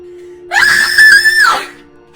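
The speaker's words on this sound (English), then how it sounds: "a chilling scream shattered the silence of the night" A woman's dramatic scream rings out at night as a sound effect for a murder story in Delhi's Defence Colony. It is one loud, sustained, high-pitched shriek of about a second over a steady low hum, and it tails off at the end.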